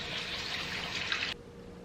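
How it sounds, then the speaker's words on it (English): Tap water runs steadily over a Cooker King breakfast frying pan being rinsed with a soft sponge, a continuous close hiss that cuts off abruptly near the end. "So to wash it, all I'm just going to do is first rinse."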